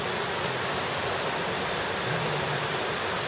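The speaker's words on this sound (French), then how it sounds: "C'est la pluie dans l'Himalaya." Steady rain pours down in a dense, even hiss in a Himalayan village, constant and enveloping, with no voices.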